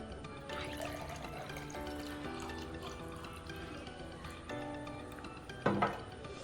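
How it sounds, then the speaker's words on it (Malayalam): Water poured into a container for a lemon experiment runs in a steady, faint trickling stream that ends with a brief splashy burst. "ഇതിൽ നമ്മൾ വെള്ളം നിറക്കുക."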